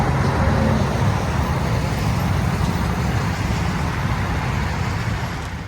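A 2024 fifth-generation Cummins truck engine, freshly installed with a flat tappet conversion, runs steadily at close range as a continuous low rumble with no talk over it.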